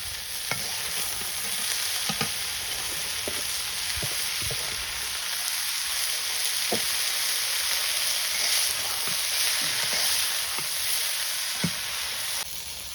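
Dried sour leaves frying with salt, chilli and spices in a village kitchen pan: a steady hiss of sizzling oil with occasional scraping stirs, close and continuous.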